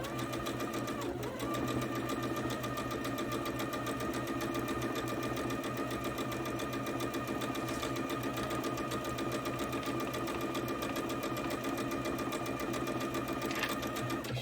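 A sewing machine runs steadily, stitching quilt blocks along a quarter-inch foot, its rapid even whir continuing close up and alone for the whole stretch.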